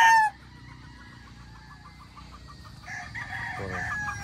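A Claret gamefowl broodcock crows once at the very start, a short loud call that cuts off quickly, followed by quiet farmyard ambience with faint distant bird sounds and some rising background noise.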